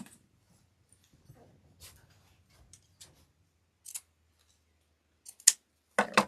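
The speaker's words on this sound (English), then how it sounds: "First, we're going to cut this so it doesn't fray." Scissors snipping craft material for a farmhouse floral container kit, a few sparse, quiet cuts scattered over several seconds, with a louder cluster of snips near the end and no talking.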